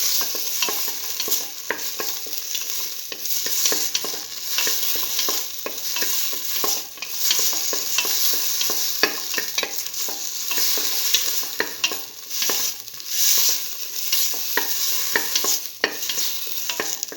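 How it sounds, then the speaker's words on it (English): Tomato pieces sautéing with shallots in a hot pan, a continuous bright sizzle punctuated by frequent spatula scrapes and clicks, steady and close throughout with no talking. "thoroughly sauteing it"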